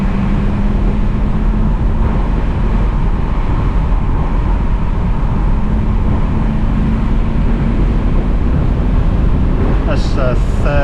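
Engine of a 1999 Mercedes R129 SL500 with its M113 V8 pulls steadily under power during manual shifting, a continuous loud drone and road roar from inside the cabin, with a brief clicking near the end.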